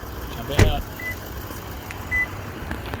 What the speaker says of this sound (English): Now that's just beeping to let me know I've got those keys in my pocket and the car's still running